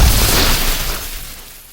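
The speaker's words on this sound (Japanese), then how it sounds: "爆発した。" A magical explosion in a fantasy voice drama: a loud, full-bodied blast with deep rumble and crackling debris that slowly fades away, with no voices.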